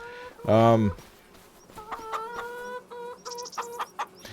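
Chickens in the Farming Simulator 2025 video game cluck in a series of short, fairly close calls, starting with one loud squawk and followed by lighter clucks, with no talking.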